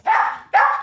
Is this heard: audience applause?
no